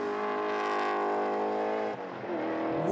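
A BMW race car, the race leader in an open-class round at Manfeild, screams past at high revs, its harmonic engine note sweeping down as it passes, then a gear change and renewed acceleration, loud and close.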